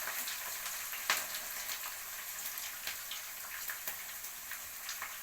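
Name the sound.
onions and green chillies frying in a pan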